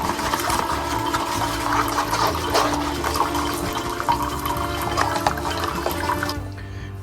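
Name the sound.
Keurig coffee machine brewing with reusable K-Cup pod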